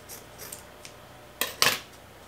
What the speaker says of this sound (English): I need to take a little piece of it now. And now I have something to cut off.